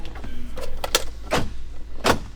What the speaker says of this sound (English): Yeah, the power locks definitely work.